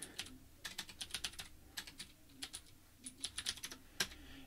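Fingers typing quickly on a computer keyboard, rapid close clicking keystrokes in bursts with short pauses, quiet and alone.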